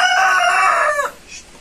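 A rooster crows once, loud and close, in a single drawn-out call of about a second that trails off at the end, near a home kitchen where a winter batch of melemen is being cooked.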